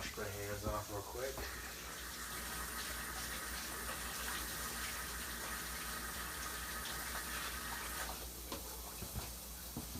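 Hands washed under a running kitchen tap, with water gushing steadily into the sink for about ten seconds, a faint voice murmuring underneath.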